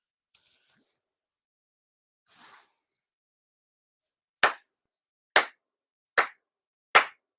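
Four sharp, separate hand claps ring out in a quiet Shinto shrine space during a New Year prayer, spaced about a second apart with near silence between them, after a few faint rustles.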